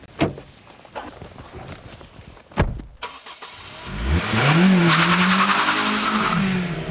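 Honda Civic Type R VTEC engine revs hard toward its 8,200 RPM limit, a loud close rising wail after a couple of sharp transient bangs, climbing steadily in pitch and holding at high revs.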